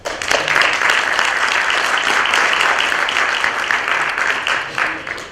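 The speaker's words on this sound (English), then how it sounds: "If you'll join me with applauding them." A conference audience bursts into loud, full applause for event partners, the clapping swelling quickly and holding steady before tapering off near the end.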